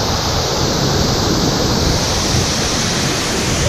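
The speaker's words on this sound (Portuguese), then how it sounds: "Estamos na cachoeira escondida." A waterfall on a river near a cave in Eldorado, São Paulo, heard as a loud, steady, broadband roar of rushing water filling the whole clip without pause, no voices.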